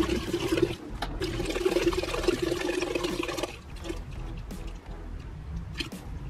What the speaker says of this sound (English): I put a little less than 2 gallons of distilled water into there.